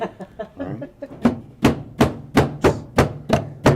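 A knife cutting the knots of a handmade Turkish carpet one by one, heard as a steady series of sharp, close, evenly spaced chops that grow louder after a few softer strokes.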